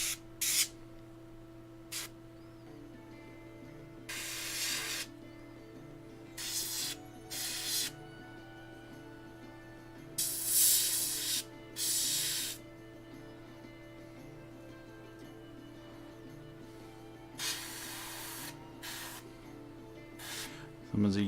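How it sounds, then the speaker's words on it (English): Airbrush spraying paint onto a Reaper miniature in bursts of hissing air, roughly a dozen short sprays of varying length separated by pauses, close and fairly quiet over a steady low hum. "At least with the airbrush."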